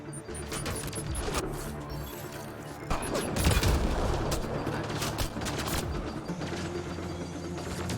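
Explosive blasts and rapid gunfire in a Mass Effect: Andromeda combat scene, with a loud grenade burst swelling near the midpoint over continuous battle noise.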